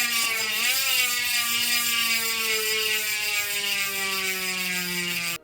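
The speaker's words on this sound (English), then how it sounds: "Being the 240 hub, there's a 90 point of engagement ratchet system in there, the ratchet DEG. Here's a quick audio bite." A DT Swiss 240 bicycle hub with a 90-point ratchet freewheel spins and clicks in a fast, steady whir that slowly winds down over several seconds, close and clear, with no voices.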